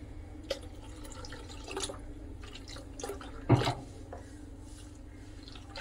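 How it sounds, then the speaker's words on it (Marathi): Rinse water from a mixer jar poured into cucumber batter for traditional Konkan tavsole: faint trickling and dripping with soft splashes and one brief louder pour midway, quiet and alone without voices. "मिक्सर धुवून तेच पाणी याच्यामध्ये मी ॲड करणार आहे"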